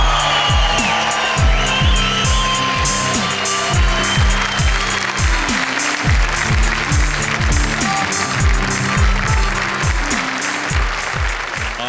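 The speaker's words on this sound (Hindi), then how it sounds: "आपकी तालियां सुनकर" A stand-up comedy audience claps loudly and steadily for several seconds, with rhythmic, roughly synchronized clapping and a little cheering mixed in.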